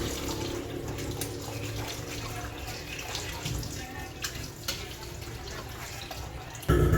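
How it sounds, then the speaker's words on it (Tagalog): Chicken liver and gizzard being rinsed under a running tap, a steady close splash of water with occasional clinks and drips, ending in a louder burst of flow. "Hugasan na po natin itong atay balunan."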